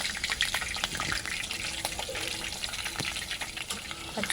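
Green chillies crackle in hot oil during frying for a potato snack, a busy spray of fine pops and crackles over a soft, steady sizzle at moderate distance.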